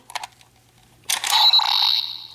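A Power Rangers Dino Charge Morpher toy registers an inserted charger, a short click or two followed by a loud, bright electronic chime that rings out alone for about a second.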